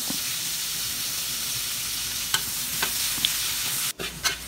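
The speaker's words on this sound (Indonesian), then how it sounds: "kita tumis bawang daun kita orak-arik sampai layu" Leeks are stir-fried with fried tofu in a pan, giving a constant close sizzle and hiss, with a few sharp scraping clicks of stirring near the end.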